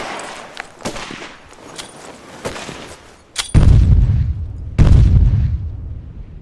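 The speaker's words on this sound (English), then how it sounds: "halfway down launched 2 bombs in the middle of the park road" Bomb explosions and gunfire staged in an outdoor play about a war ambush on a park road: scattered sharp shots followed by two loud, deep booms that ring out and decay.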